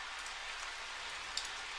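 Steady rain from the KIRA☆KIRA video game, a soft continuous hiss of falling drops with one brief louder patter near the end, heard alone with no voices.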